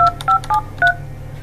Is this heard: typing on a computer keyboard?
no